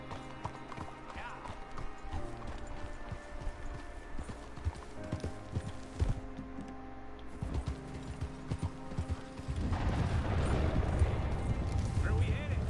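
Horse hooves in Red Dead Redemption 2 clip-clop steadily beneath game background sound and voices, growing louder and busier near the end as the pace picks up.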